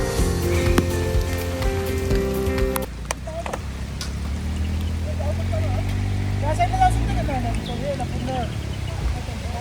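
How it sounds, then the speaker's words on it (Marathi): Rain falls steadily outdoors in a summer downpour, a constant hiss behind other sounds: an engine drones early on, then birds chirp and faint voices come through. "पाऊस येतोय"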